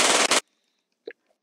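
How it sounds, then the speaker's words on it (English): Galactic gun fired in a video game, a single short loud burst of rapid shots that cuts off abruptly, followed by a faint blip and near silence. "Galactic gun."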